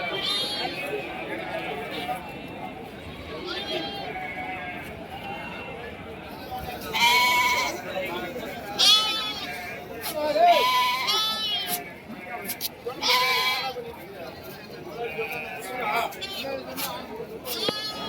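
Goats bleat repeatedly at the busy Konganapuram Saturday goat market, with several sharp, close cries rising over a constant hum of crowd chatter and someone talking nearby.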